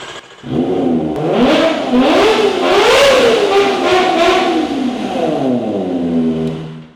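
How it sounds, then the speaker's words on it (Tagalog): A 2023 Kawasaki Ninja ZX25R with a 250cc inline-four engine and Ixil exhaust revs loud and close, climbing through several rising and falling high-pitched sweeps before settling back toward idle. "2023 ZX25R inline 4 250cc."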